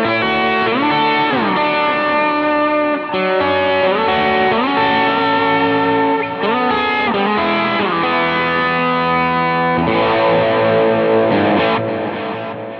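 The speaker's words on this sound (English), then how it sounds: "adding in some of this reverb and delay" An electric guitar played through reverb and delay effects for a worship-style tone, with sustained chords and notes that ring out and trail into long, washy echoes, played alone and loud.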